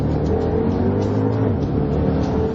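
A Porsche Panamera Turbo, a two-ton saloon, launches hard under launch control. Its loud, close engine roar holds a strong, steady tone throughout, with no voices.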